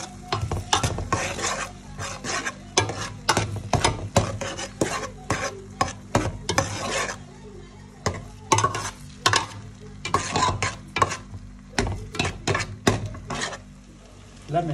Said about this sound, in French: Je vais continuer à mélanger avec le beurre.